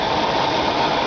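A 1986 AMC Eagle Limited Wagon 4x4 engine runs at a steady idle, a constant close mechanical drone.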